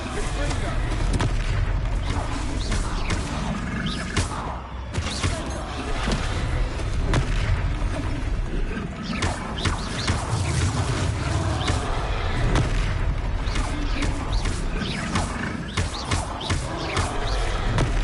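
Confringo spell explosions boom and crackle during a troll battle in Hogwarts Legacy, a loud, continuous barrage of bursts and rumbling impacts with game effects layered throughout.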